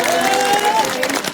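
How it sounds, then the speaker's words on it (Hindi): Crowd applause and cheering at a political rally in Punjab, a broad wash of clapping with a sustained whistle or shout riding on top, fairly loud and close throughout. "जरा ताली तो बजा दो"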